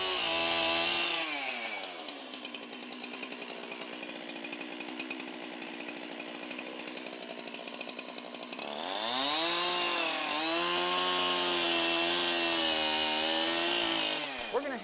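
A chainsaw cuts through a log being shaped into a six-foot mantle, running loud and close with a steady buzzing roar that drops to a lighter idle in the middle and then revs up hard again.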